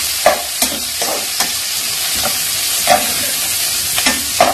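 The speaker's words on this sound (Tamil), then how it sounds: "இந்த ஆனியன் நல்லா ஃப்ரை ஆனதுக்கப்புறம் நான் கேப்சிகத்தையும் போட்டு" Onion and capsicum frying in a pan for white macaroni, a loud continuous sizzle punctuated by repeated sharp scrapes of a spatula stirring at an uneven rhythm.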